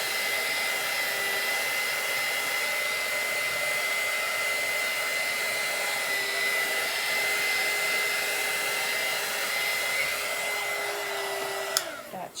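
A hair dryer blows steadily and loudly at close range, drying chalk paste on a T-shirt, holding an even whir for about twelve seconds before it cuts off abruptly near the end.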